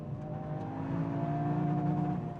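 A Toyota GR Yaris engine holds steady against its rev limiter, a sustained buzzing drone with a faint stutter, heard alone at moderate distance without talk.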